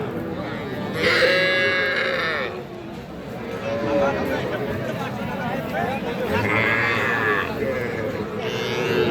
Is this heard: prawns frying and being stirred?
no